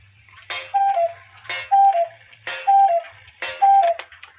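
A cuckoo clock with a count wheel movement ticks steadily, and four evenly spaced cuckoo calls ring out loud and close over the ticking with no talk.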